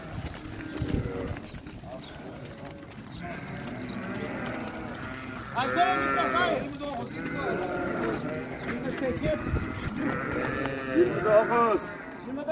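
Fattened sheep bleating repeatedly among a flock being loaded, several overlapping bleats near and farther off, with people talking in Turkish over them.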